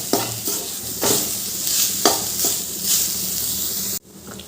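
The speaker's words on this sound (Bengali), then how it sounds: "এবার একটু ভালো করে তা ভাজা ভাজা করবো" Grated radish fries with salt, turmeric and cumin powder in a pan, giving a steady loud sizzle broken by about four rhythmic scraping stirs of a spoon, before the sound cuts off abruptly near the end.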